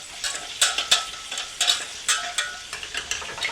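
A roux is stirred in a pan over a flame, with a soft steady sizzle under repeated scraping strokes of a spoon, close and moderately loud.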